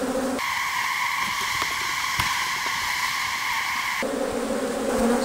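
A dense swarm of honey bees buzzes steadily right after being shaken off a hive frame in western Oklahoma, a close, constant drone with a brief sharp click in the middle and no voices.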